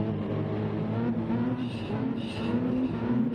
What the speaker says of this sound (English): I'll just do engine noise for this one.